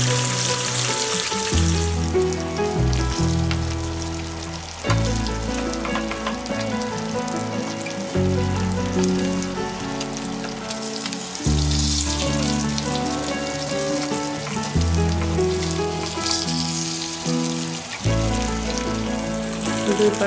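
Rohu fish coated in garlic and chili paste fries in a pan, giving a loud, steady sizzle and crackle that runs throughout, with no talking.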